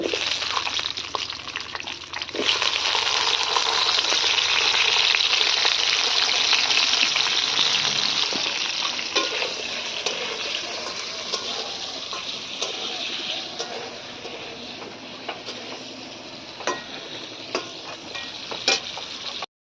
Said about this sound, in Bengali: এবারে কাঁচকলাটা ভেজে নেব।